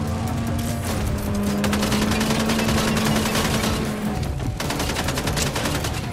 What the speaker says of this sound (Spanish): Estoy disparándome de lejos.